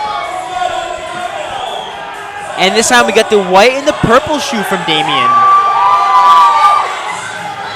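A loud indoor crowd at the 2023 Invictus Boston Invitational CrossFit competition, cheering, whooping and shouting in a swelling roar, with a commentator talking over it and a sustained whistle-like tone near the end.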